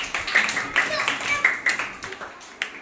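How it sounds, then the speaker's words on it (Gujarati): Schoolchildren in a third-grade maths class give a classmate a short round of scattered claps, a few sharp bursts spread out under a teacher's talking in a small room. "ચાલો તાળી પાડી દો હેતવીબેન માટે."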